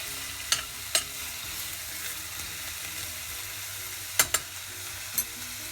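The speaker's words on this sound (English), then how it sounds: "Just give that a quick stir. Make sure the onions are fully coated with the coconut oil." Onions frying in coconut oil in a pan, a soft continuous sizzle with a few sharp utensil taps and scrapes from stirring, close but fairly quiet, no talk.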